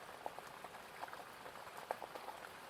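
Light rain falls steadily at a distance, with scattered soft drips and patters over a faint, even hiss.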